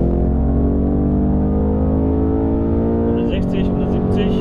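BMW M8 Competition accelerating hard on the road, a loud, close, sustained engine roar whose pitch climbs steadily through the gears, with a brief shift near the end and voices talking over it.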